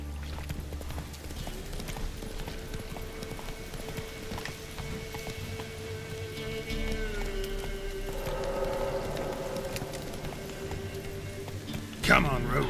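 Roach, a horse in The Witcher 3 video game, galloping with steady rhythmic hoofbeats under game music and ambience, with a brief sharp sound near the end and spoken lines over it.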